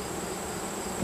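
A queen honey bee buzzes steadily as a beekeeper catches her by the back wings, a faint continuous insect drone close by with no talk over it.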